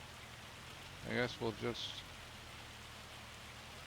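Hail falls in the video game Farming Simulator 25 as a constant soft hiss. Someone speaks a few words over it.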